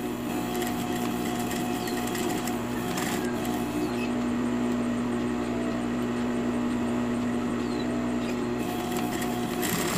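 A sewing machine stitches loops onto a prom dress being converted from zipper to lace-up, giving a steady close mechanical hum and whir that runs continuously.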